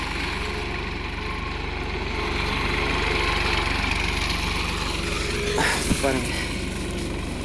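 Tractor engine running steadily at close range with a constant low mechanical drone throughout, while urad dal is threshed by running tyres over it; a brief clatter sounds near the end and a voice speaks briefly.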